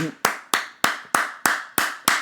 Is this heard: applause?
yes